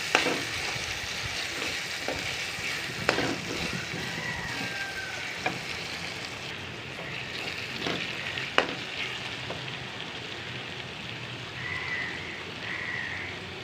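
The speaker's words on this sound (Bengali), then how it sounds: "এখানে দিয়ে দেবো আমি কয়েকটা কাঁচামরিচ টমেটো এগুলো দিয়ে আবার কিছুক্ষণ কষাতে হবে" Crab masala sautéing in a pan with green chilies and tomatoes makes a steady, rain-like sizzle, punctuated by occasional knocks and scrapes of a stirring spoon, close and moderately loud, with no speech.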